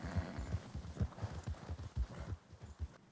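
Horse hooves in Red Dead Redemption 2 clip-clop in a steady, fast rhythm, close and fairly loud, each strike landing as a dull thud for the whole stretch with no voices over them.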